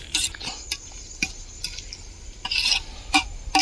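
Masala for a village-style one-kilogram chicken biryani is sautéed, with irregular scraping and clattering strokes of a ladle against the pot over a faint background sizzle, heard close with no voices.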